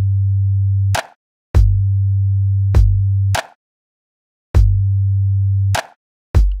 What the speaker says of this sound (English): just a kick drum, a clap snare sample, and then a sine wave bass playing the same pattern as the kick